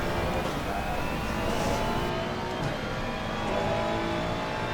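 Race car in Assetto Corsa Competizione held at full throttle, its engine a steady, loud continuous roar that stays flat and sustained throughout with no pauses.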